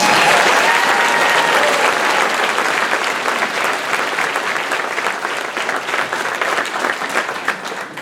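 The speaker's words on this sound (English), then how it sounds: "I think that deserves a round of applause." A large graduation crowd applauds a high school class of 2019, dense sustained clapping filling the space at full strength before gradually thinning toward the end.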